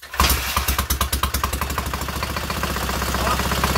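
A rebuilt K750 motorcycle engine cranks and catches, firing in loud, rapid, rhythmic pulses that settle into a steady close-up idle with no throttle blips.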